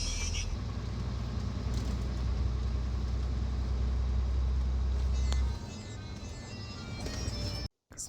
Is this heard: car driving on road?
yes